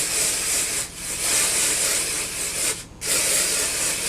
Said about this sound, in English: And then I just spray it in the areas that I want it to be.